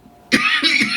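A close, harsh cough erupts abruptly, followed by a couple of rough, raspy hacks in quick succession.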